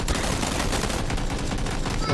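Rapid automatic gunfire in a battle royale video game, dense overlapping bursts of shots filling the whole moment at close range.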